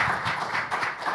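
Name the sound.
audience applause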